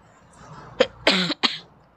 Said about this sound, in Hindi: बहुत ज़्यादा खांसी आ रही है